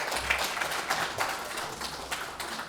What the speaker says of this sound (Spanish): Y yo quiero recibir a Claudio con un gran abrazo y un gran aplauso de todos nosotros